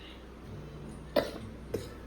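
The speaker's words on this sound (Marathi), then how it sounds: "खोकला आला" A child gives two short coughs, the first stronger and the second softer about half a second later, over a low steady room hum.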